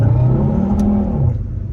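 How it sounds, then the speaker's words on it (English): A car spins its wheels pulling away from a green traffic light, a loud, close, steady engine roar with a tonal whine that holds and then eases slightly, with no voices. "Bit of wheel spin."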